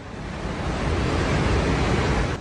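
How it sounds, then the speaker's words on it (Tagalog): Rushing floodwater of the Botekoshi River roars between mountains as a dense, continuous wash of noise, loud and steady throughout with no voices. "mula sa malayo, rinig na ang pagragasa ng tubig sa pagitan ng mga bundok."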